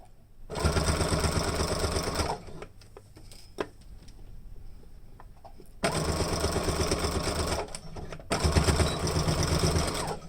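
Close and loud, a sewing machine stitches a seam on a fabric face mask in two steady bursts with a quieter pause of small clicks and handling between them.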